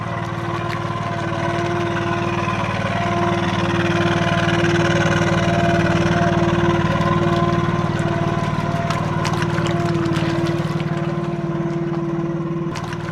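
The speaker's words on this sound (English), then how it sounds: "seamlessly fire up the outboard, raise the legs and power away on the water" A steady outboard motor on a Sealegs 9.0m Hydrasol amphibious boat drones continuously at a constant pitch on the water, loud and close, with faint splashing and wind mixed in.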